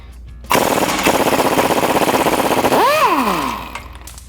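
Impact wrench loosening the 18 mm bottom shock bolt on a Jeep Wrangler JL: one loud, sustained rattling hammer burst of about three seconds at close range, ending in a falling whine as the tool spins down.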